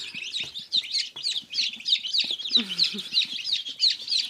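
Bantam chicks peep in a rapid, steady stream of high, thin chirps close by, with a few soft low rustles beneath.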